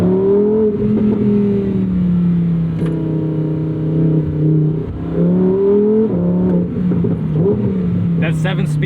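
A loud 2024 Lamborghini Huracan Sterrato engine, mounted right behind the cabin, revs and drops repeatedly, pitch rising and falling through quick 7-speed dual-clutch gear changes, close and continuous.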